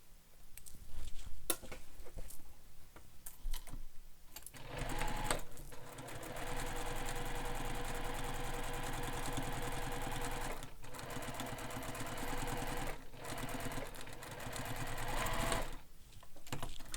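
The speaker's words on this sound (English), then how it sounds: "it's very important to make the 2 rows of stitching because we use those later when we're stitching the pocket to the bag" A sewing machine stitches two rows along a bag in long, steady close runs of rapid mechanical whirring, broken by a few short pauses and clicks between passes.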